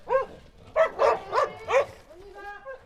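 Several farm herding dogs working goats bark in a quick burst of four or five loud yaps close by, followed by a softer whine.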